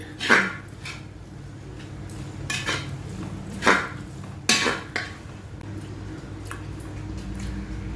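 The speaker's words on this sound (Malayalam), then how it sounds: "വേവിച്ച് വെച്ച ബീഫ് അല്ലേ നന്നായിട്ട് ഇളക്കി കൊടുക്കുന്നുണ്ട്" A spoon stirs cooked beef curry in a metal pot, giving several sharp scraping clinks against the pan between quieter wet stirring, with light background noise.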